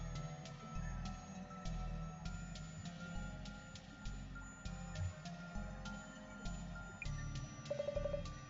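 A telephone rings in a video game, sounding as a steady series of repeated electronic rings, fairly quiet and alone, with a brief higher trill near the end.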